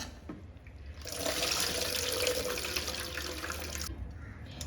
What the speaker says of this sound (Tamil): இதே மாதிரி 4 தடவை களைஞ்சிக்கணும், தண்ணி கிளியராக வர்ற வரைக்கும்